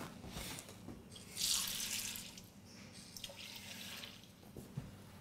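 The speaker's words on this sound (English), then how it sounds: "All I need to do is add water and a couple of spices." Tap water runs and splashes into a pot of cooking yellow lentils, a steady rushing pour that surges briefly loud and then settles into a quieter trickle, with no talking.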